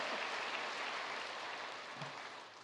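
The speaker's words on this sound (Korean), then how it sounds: "살아계신 하나님 앞에 감사의 박수를 드립니다." A congregation claps in thanks during a Sunday morning service at Yoido Full Gospel Church, a faint, even wash of applause heard alone and tapering slightly toward the end.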